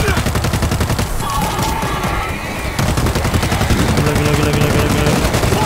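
Continuous rapid automatic gunfire from the zombie shooter video game World War Z, loud and dense, with a brief drop in intensity before the firing resumes.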